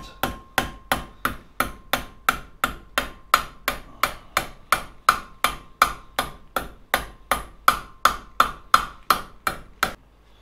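Steady, evenly spaced hammer blows ring out on motorcycle sheet metal, about three per second, loud and close with a bright metallic clang.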